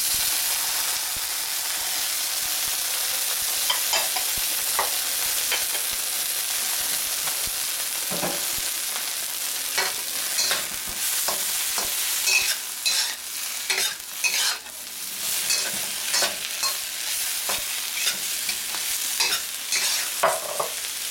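Chicken and mushrooms stirred in a hot pan, sizzling and frying steadily throughout with repeated scraping and clacking from the utensil, close up and with no talking.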